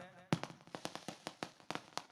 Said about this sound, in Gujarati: આ ફટાકડાવાળા મિત્રોને થોડીક વિનંતી કરું કે આપણો ફટાકડાનો પ્રોગ્રામ હવે પછી